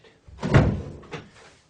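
A wooden house door swings shut against its jamb with a dull thud, followed by a lighter latch knock, close and clear with no talking.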